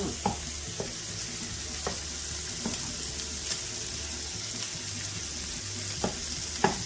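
Sour cream is mixed into twice-baked potatoes, with soft, steady stirring and scattered light taps of a utensil against the dish, fairly quiet and without talk.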